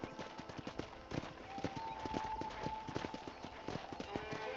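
Steady video game horse hoofbeats clip-clop at a walking pace over a low ambient backdrop, with a faint tonal hum running through the middle.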